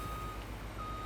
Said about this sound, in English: you could turn off the beep while reversing